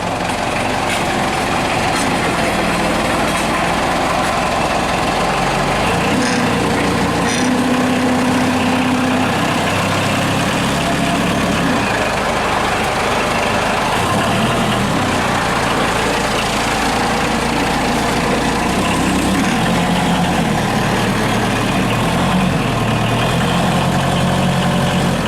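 A forklift's diesel engine rumbles loudly and continuously as it is put in gear and moves off, a dense low throb with shifting tones as the revs change, steady throughout with no talking.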